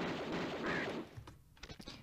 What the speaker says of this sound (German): Wie viele Schüsse die Raben einfach einstecken, ist einfach schön.